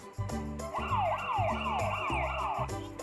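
A toy police car's electronic siren wails in fast rising and falling sweeps, loud and close, continuing steadily for about three seconds over a pulsing low tone.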